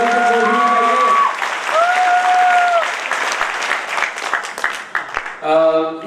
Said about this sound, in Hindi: तालियां थोड़ी जोर से बजे